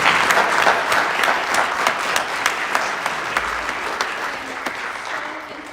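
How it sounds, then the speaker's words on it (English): An audience at a school board meeting applauds steadily, many hands clapping together in a dense wash of sound that slowly thins toward the end. "can you give our superheroes a round of applause?"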